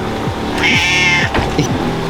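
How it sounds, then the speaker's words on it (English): A cat at a Caribbean resort meows loudly and close, one long drawn-out cry over a steady low background rumble and several short thumps. "we were petting this cat this morning"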